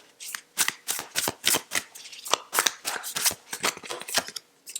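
A tarot card deck is shuffled close up, with a rapid run of crisp riffling card snaps and slaps in an uneven rhythm.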